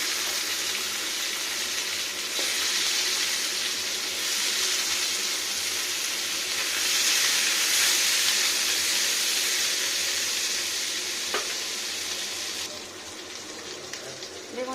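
Cabbage sizzling in fish oil in a wok, a steady broad hiss of frying that holds evenly throughout and eases slightly at the end, with no talk over it.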